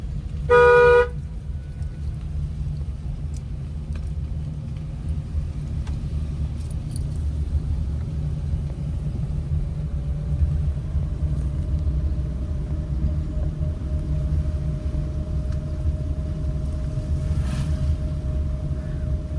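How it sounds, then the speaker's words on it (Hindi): A car drives along a paved road with a continuous low engine and tyre rumble throughout, a brief horn toot near the start and a faint steady tone later on. "अभी जो हमारी कार चल रही है वो रोड पे है।"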